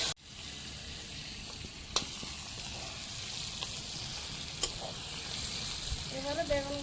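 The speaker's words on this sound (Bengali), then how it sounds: "এবারে মাছের তেলে বেগুনগুলো ভেজে নেব। অল্প হলুদ দিয়ে দেবো। হালকা করে ভেজে নেব।" Brinjal pieces fry in fish oil with a little turmeric for a Bengali fish curry, giving a steady close sizzle and crackle throughout, with a couple of sharp utensil clicks and a faint tonal clink near the end.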